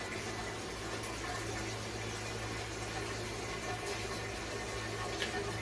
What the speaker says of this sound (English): I'm running this initial hot water over into this keg